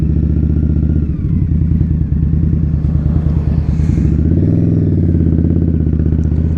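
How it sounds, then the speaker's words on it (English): A 2021 Indian Scout Bobber Twenty motorcycle with a Vance & Hines exhaust rumbles close by at a steady, throaty idle or low cruise, a dense pulsing drone with a slight rise in pitch midway. "But I do love the sound of this Vance & Hines."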